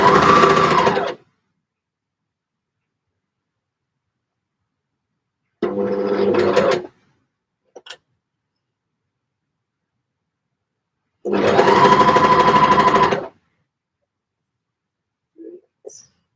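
A sewing machine stitches knit fabric in three loud, close runs of rapid mechanical whirring, the last about two seconds long, with silent pauses and small clicks in between.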